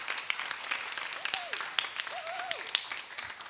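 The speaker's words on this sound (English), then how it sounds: "So please, a round of applause for them as well." Audience applause at the closing ceremony of a food systems pavilion: steady, moderately loud clapping from a crowd throughout, with a couple of brief tonal whistles or calls rising above it.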